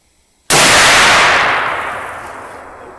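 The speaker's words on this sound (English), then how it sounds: "Okay, it went bang" One loud gunshot from a muzzleloader rifle ignited by a 209 shotgun primer, a sudden sharp blast followed by a long booming decay rolling away outdoors, with no talking.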